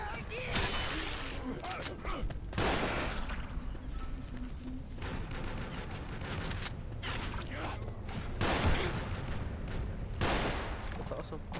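Gunfire from the Left 4 Dead video game comes in repeated broadband bursts and volleys, some rapid like automatic fire, over about twelve seconds beneath near-constant casual talk from several players.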